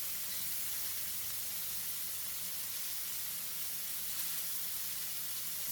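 Prawns sizzle in a hot pan during a stir fry with baby kai lan, a constant soft hiss and crackle throughout, quiet and unbroken, with no talking.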